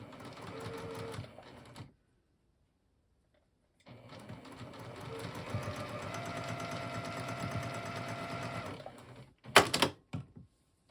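A sewing machine chain-pieces a snowflake quilt block, its needle running in two steady, close mechanical stretches separated by a silent pause, followed by a few sharp clicks and clacks.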